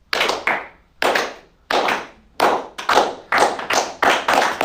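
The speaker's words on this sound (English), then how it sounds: "Let's do a slow clap that like builds to a roaring applause." A classroom of algebra students claps slowly in separate, evenly spaced bursts, each a sharp group clap that fades before the next, speeding up slightly toward the end. No voices are heard.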